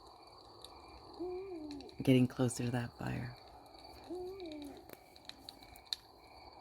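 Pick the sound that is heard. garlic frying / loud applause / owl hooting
owl hooting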